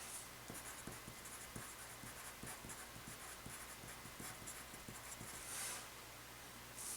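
Handwritten notes for a calculus lesson are scratched out with a pen, a faint, close series of quick strokes and taps over a steady background hiss.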